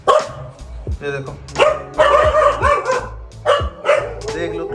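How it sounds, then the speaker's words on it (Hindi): Several dogs bark and yip in repeated sharp bursts at close range, with someone talking over the barking throughout. "हाँ हाँ भौंक ले और भौंक ले"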